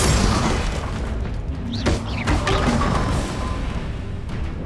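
Spell blasts burst in Hogwarts Legacy as the Confringo fire spell detonates, a loud booming explosion followed by several sharp cracks and crashing impacts in quick succession amid combat.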